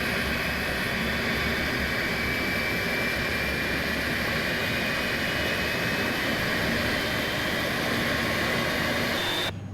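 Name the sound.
jet engine starting in iniBuilds A300 flight simulator game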